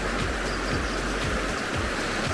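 A creek flows steadily along a narrow trail in a remote canyon, a continuous broadband rush of running water, close and unbroken, with no voices.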